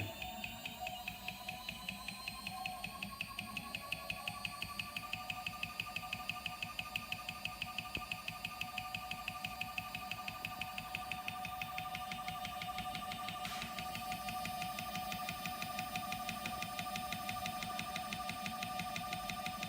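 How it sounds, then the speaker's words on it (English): An engine runs at about 500 RPM on a break-in test rig, a steady mechanical hum with an even, rapid pulsing from the piston and faint high whining tones, continuous throughout. "there we go, piston's pumping away"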